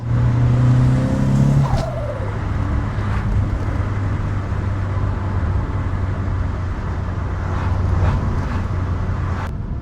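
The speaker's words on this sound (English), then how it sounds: "Third gear pull." Turbocharged 1990s car accelerating hard in third gear, a loud, steady engine drone rising briefly at the start and then holding, with faint turbo flutter and chatter on top.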